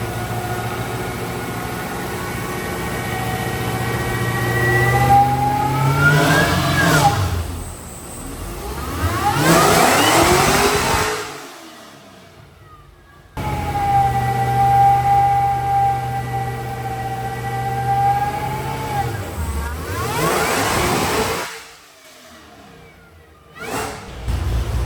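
Car engine on a dynamometer during a WS6 versus CT5-V dyno battle, idling steadily then revving up in a loud climbing pull, cutting off, and repeating the same run with a high whine.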